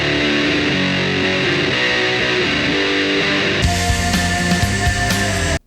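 Thick, fuzzy distorted electric guitar chords with two layered tones, a Big Muff and a DS1, sustained and loud, swelling fuller and brighter near the end before cutting off.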